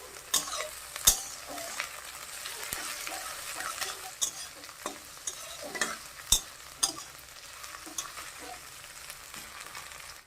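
Cumin, onion and dried fish sizzle in hot oil in a pan, with a soft steady crackle broken by the repeated scrape and clink of a spoon stirring, fairly faint and with no talk.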